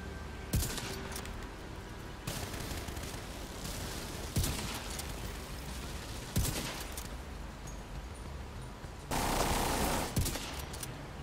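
Bursts of automatic gunfire in the shooter game The Division 2, several loud rattling volleys separated by brief pauses, with a longer sustained burst near the end and no talking.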